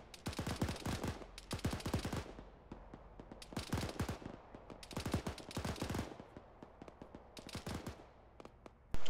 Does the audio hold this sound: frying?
no